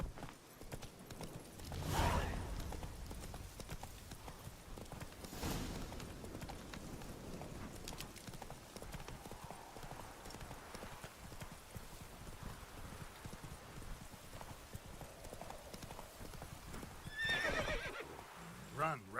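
Roach, Geralt's horse in The Witcher 3, gallops with rhythmic hoofbeats and gives a couple of whinnies, all at a fairly quiet level beneath a voice.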